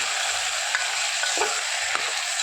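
Spice mix being stirred in a hot pan, a steady broadband sizzle with a few soft spoon scrapes against the metal, close and continuous with no talking.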